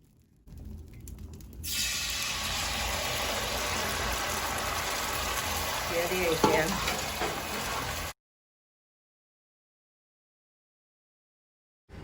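Kalthappam batter hits a hot uruli in a Kasaragod kitchen with a sudden, steady sizzling hiss lasting about six seconds before cutting off, set against a faint background hum.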